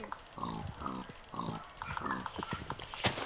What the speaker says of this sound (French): Petit cochon de merde.